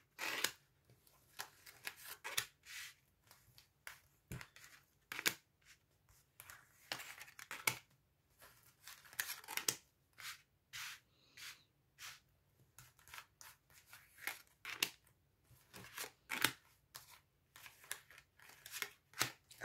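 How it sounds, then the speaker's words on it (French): Tarot cards are spread across a tabletop in a run of short, sharp card snaps and rustles, close and fairly quiet, with brief pauses between bursts and no talking. "on va étaler les cartes et on va faire votre tableau"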